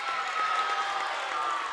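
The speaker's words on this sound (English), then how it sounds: "Crowd really getting into it now." Crowd cheering and clapping at a high school volleyball game in a gym, a steady wash of applause and voices at moderate distance with no break.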